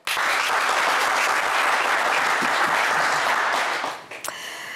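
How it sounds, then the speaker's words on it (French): Studio audience on a French television game show breaks into sustained, even applause that holds strong for about four seconds, then fades, with a brief chime-like sound at the end. "On peut vous applaudir."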